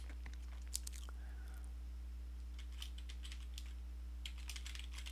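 Someone types on a computer keyboard while coding, giving quiet, close clusters of light key taps in short bursts over a steady low electrical hum, with no speech.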